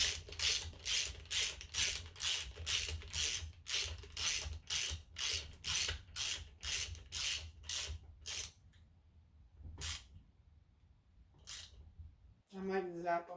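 A ratchet tightening the engine case bolts on a Yamaha Raptor 660 being rebuilt clicks in fast, even bursts up close, with pauses between strokes and a few lone clicks. A voice cuts in briefly at the end.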